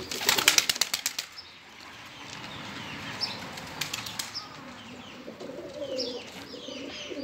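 Released pigeons burst into flight with a loud clatter of flapping wings in the first second, followed by softer wingbeats, scattered flutters and faint cooing outdoors.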